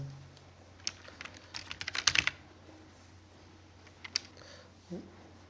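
Typing a login ID and password on a computer keyboard gives a short cluster of close key clicks, followed by a few isolated taps, fairly quiet over a faint background hum.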